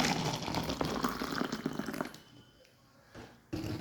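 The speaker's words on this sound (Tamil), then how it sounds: "நல்ல சுட சுட சுடு தண்ணி ஊற்றுனீங்க" Hot water pours into a tumbler for herbal tea, a continuous splashing fill that stops abruptly after about two seconds, followed by a quieter stretch and a brief final trickle.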